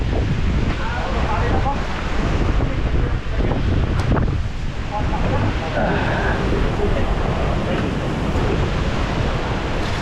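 Strong gusting wind roars and buffets the microphone throughout while riding a motorcycle on a road in Vietnam, a loud continuous rumble with people talking faintly underneath.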